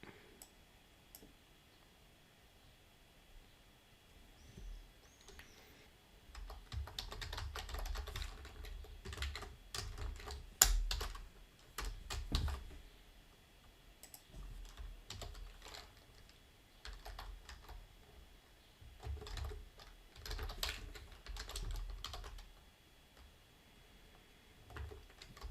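Someone types on a computer keyboard close by, with fast irregular bursts of key clicks and short pauses that run for about 25 seconds, faint and without talk.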